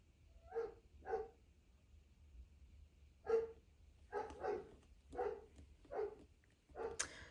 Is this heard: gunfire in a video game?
no